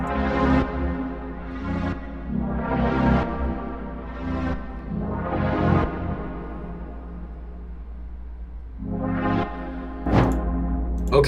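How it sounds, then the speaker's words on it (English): Soft swelling synth pad chords in an RnB loop, each sustained chord fading in and out in slow succession, with a brighter swell near the end; no voices. "Then we have this pad."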